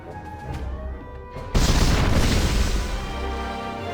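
In the video game War of the Visions: Final Fantasy Brave Exvius, a magical artillery bombardment erupts. A low rumble gives way to a sudden heavy explosive blast that keeps roaring and crackling loudly before easing slightly.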